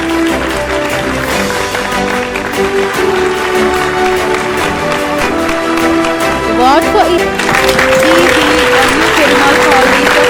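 An audience applauds award winners at a science awards ceremony, a dense ongoing clapping under loud background music while a voice speaks over it.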